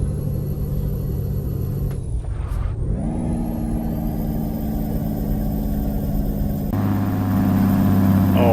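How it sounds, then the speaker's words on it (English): Truck engine running steadily in a trucking video game, a continuous loud rumble with a brief swell and dip near the middle and a deeper tone settling in toward the end. "Listen to that engine."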